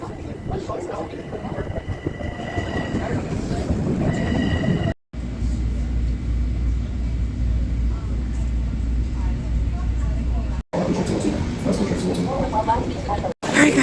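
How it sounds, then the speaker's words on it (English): Subway train in a station during a New York snowstorm, a steady low rumble and clatter of the cars with brief squeals, mixed with people talking nearby. "I wish that was my train,"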